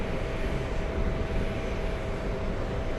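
JetBlue airliner on the ground at an airport, a steady broadband engine rumble and hiss at an even level, no voices.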